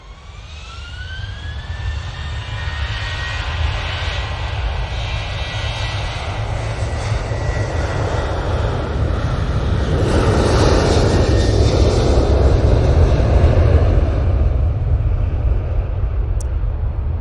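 A Ryanair jet airliner on its takeoff roll at Manchester Airport, the engine roar swelling steadily from a moderate rumble to a loud, broad sustained thunder, with a thin whine sliding upward early on, heard alone without talk.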